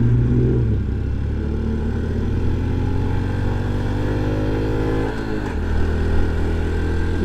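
A 2023 Honda Trail 125 semi-automatic motorcycle revs steadily while being ridden, its engine pitch climbing, briefly dropping at a shift, then rising again, loud and close.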